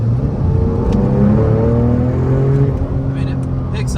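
A Porsche 911 997 Turbo in sport mode with automatic shifting accelerates smoothly. Its engine note climbs steadily up close while someone talks over it.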